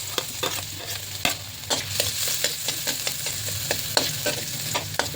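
Garlic sizzling and frying in a hot pan while being stirred, with steady crackle and repeated scraping strokes close up, no voices.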